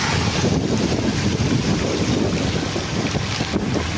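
Floodwater overflows from a creek in a once-in-ten-years flood, a loud, continuous rushing roar of water with wind-like buffeting that never lets up.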